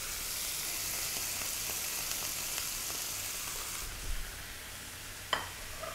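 Tomatoes hit a pan of onions and red wine glaze, a steady, fairly quiet sizzle and bubbling hiss running throughout with a couple of soft knocks near the end, no voices.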